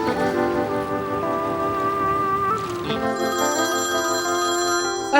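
A telephone rings in a drama scene, a steady repeating electronic ringtone filling the clip alone, loud and close with no talk over it.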